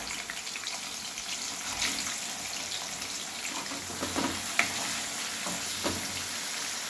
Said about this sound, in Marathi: पनीर थोडंसं भाजून घेते